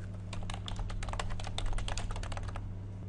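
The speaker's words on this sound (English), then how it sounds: "you can click on your text tool and hover over the text to start typing" Typing on a computer keyboard while working in After Effects, a steady run of quick, close key clicks with a low constant hum beneath and no speech.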